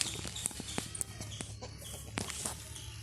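Chickens cluck and chatter in short scattered bursts, fairly close, over a faint steady background hum.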